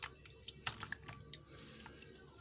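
Frozen mantis shrimp dropped into water to thaw before being made into kofta, giving soft drips, splashes and wet squishing sounds in a quiet kitchen, with no talking.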